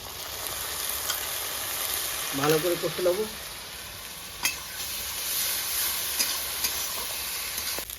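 Ginger garlic paste frying in a pan for a rustic village-style crab, taro and potato curry, with a loud continuous sizzle and hiss close up, a few spatula scrapes, and someone briefly speaking over it.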